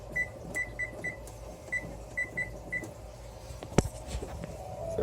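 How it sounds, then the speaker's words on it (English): A kitchen timer being set while blueberries are canned, giving a series of short, evenly spaced electronic beeps at moderate level over a steady low background hum, followed by a single sharp click. "hit the timer"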